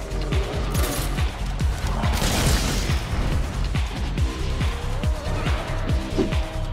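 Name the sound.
Dragon Piercer attack in Monster Hunter World video game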